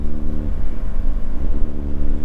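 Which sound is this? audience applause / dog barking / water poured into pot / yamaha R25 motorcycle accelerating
yamaha R25 motorcycle accelerating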